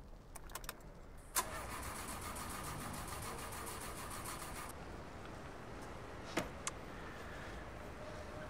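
A car engine cranks with a sharp click, catches and settles into a steady idle for several seconds, then cuts off, followed by a couple of faint clicks in a quiet setting.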